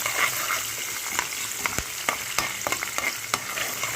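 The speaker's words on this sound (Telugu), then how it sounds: "నూనెలో ఫ్రై అవుతూ ఉండాలి పచ్చిమిరపకాయలు" Green chillies frying in hot oil in a pan, a steady crackling sizzle with sharp pops and stirring clicks scattered throughout, close and fairly loud with no talking.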